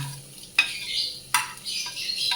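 Chopped onion fries in hot oil in a wok, hissing and crackling steadily while a utensil stirs it with a few sharp scrapes and knocks against the pan.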